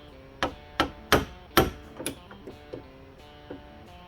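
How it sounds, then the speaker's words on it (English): A hammer strikes a metal punch in a series of sharp, ringing taps, locking a small cotter key on a Jeep LJ transfer case: four firmer blows followed by several lighter ones, close by and without talk. "just gonna take a punch and a hammer and gently"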